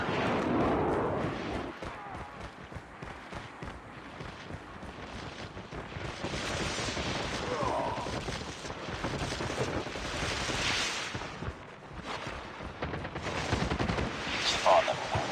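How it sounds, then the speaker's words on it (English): Gunfire and an airstrike in the mobile shooter Call of Duty Mobile during a deathmatch, a dense, continuous roar of shots and blasts that runs the whole length with a voice heard over it. "Friendly napalm deployed."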